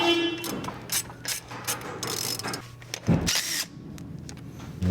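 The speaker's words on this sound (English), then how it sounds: "you have this little locating screw right here. You're gonna have to remove it. That is a 6mm Allen." A 6mm Allen key working a stubborn brake caliper locating screw on a BMW E90 328i, heard as close metallic clicks and scraping turns with a brief louder clunk, no talking.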